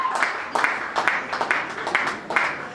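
Applause at a wedding party during a religious wedding celebration's dance evening, heard as repeated bursts of clapping from a crowd, moderately loud and fairly close, rising and falling in waves.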